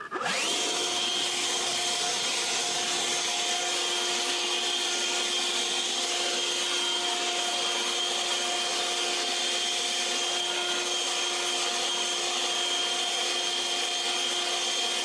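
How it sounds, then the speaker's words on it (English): A Harbor Freight Atlas 80V battery leaf blower runs continuously, a loud, steady, close rushing roar with a high whine as it blows debris outdoors. "when you press that turbo mode, wow, does it really blow a lot of air"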